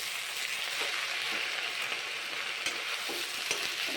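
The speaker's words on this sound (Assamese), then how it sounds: "এতিয়া এয়া লৰোৱা হ'ব" Tomatoes, green chillies and chickpeas sizzle and fry in a pan while being stirred, a steady close hiss with soft scraping clicks of the spoon throughout.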